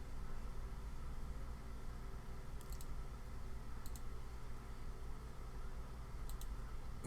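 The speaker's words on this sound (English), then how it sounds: "See if I can right click." A computer mouse gives three quick pairs of sharp clicks, spaced a second or two apart, faint against a steady background hum.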